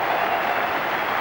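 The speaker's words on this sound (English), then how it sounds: "Applause that is not yet ecstatic" Steady crowd applause rolls around a football ground at half-time in a Hearts v Clydebank match, a broad, continuous wash of clapping from a distant terrace.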